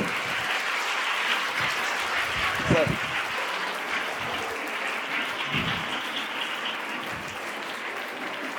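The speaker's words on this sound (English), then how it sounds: "Everybody stand and clap your hand, please." A crowd at an Independence Day event applauds continuously in a dense, steady wash of clapping, with a few voices calling out over it.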